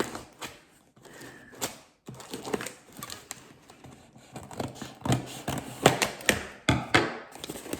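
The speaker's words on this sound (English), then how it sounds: "now I'm going to try and open up the Diggers Club parcel. Just sticky tape together very well" Crinkling and tearing of sticky tape and cardboard as a heavy Diggers Club seed parcel holding seed potatoes is opened by hand, irregular close scratchy rips and taps with quiet pauses, no talk.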